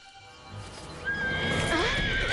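A horse neighs loudly and close, a rising whinny over the soft clip-clop of hooves, in an animated farm story.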